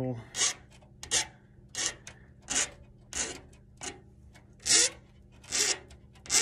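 Steel file rasping across the edge of the inner conductor of LDF4-50A coaxial cable, being trimmed before fitting a CommScope N male connector: about nine separate close, rough strokes in an uneven rhythm, with no talk.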